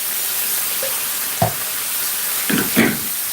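Onion hits a hot pot and fries with a loud, steady hiss, broken by a few short scrapes or stirs near the end.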